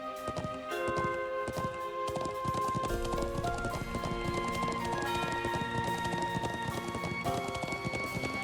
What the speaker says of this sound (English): get on our horse just so we can get off the horse and open this up